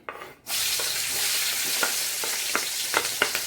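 Green chilies drop into hot oil after a brief quiet start, and a loud, steady sizzle takes over at once, with faint stirring clicks scattered through the frying.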